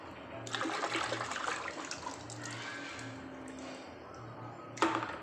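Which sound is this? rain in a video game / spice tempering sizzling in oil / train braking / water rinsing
water rinsing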